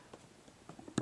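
A NOAA weather radio gives a short, clear electronic beep as its select button is pressed, coming right after soft handling clicks in a quiet room.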